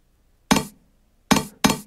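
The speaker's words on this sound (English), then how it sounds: "I am going to start with a jumping sound effect" Three short bright percussive blips of a video game jump sound effect, one alone then two close together, each a quick synthetic pop with a fast decay over near silence.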